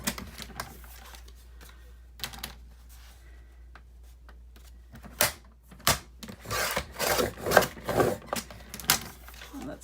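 Cardboard from a saved box being trimmed along its scored edge, giving close, scratchy, rasping cuts that start sparse and build into denser bursts toward the end.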